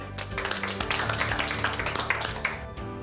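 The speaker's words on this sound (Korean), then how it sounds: "박수" A group of firefighters clapping together after a training briefing, a brief burst of dense applause that tapers off at the end.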